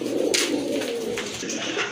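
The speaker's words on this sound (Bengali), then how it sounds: "মাশাআল্লাহ খুবই সুন্দর আরেক জোড়া কবুতর দেখেন" Pigeons of a pair kept for sale coo in a close, steady stream, soft throaty rolls repeating without pause over the whole stretch.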